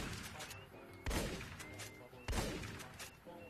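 Two sharp, loud gunshots about a second apart ring out in the video game Fallout: New Vegas, each a sudden blast with a short decay over a busy game background.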